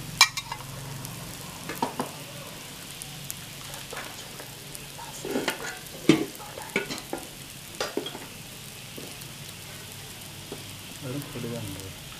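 Vada frying in plenty of hot oil on a medium flame gives a soft, steady sizzle broken by small pops and stirring clicks, faint and close, with brief speech in between.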